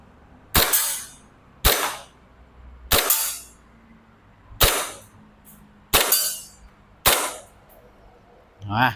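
An airsoft BB pistol is fired at a target 15 meters away, giving seven crisp, sharp cracks spaced roughly a second apart, close and loud with brief metallic tails between quiet gaps.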